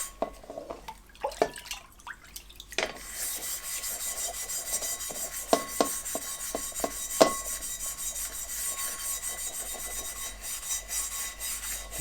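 A small scratch pad scrubs the factory coating off a Matfer Bourgeat carbon steel pan, giving a steady close rasping rub with a few sharper scrapes and taps along the way.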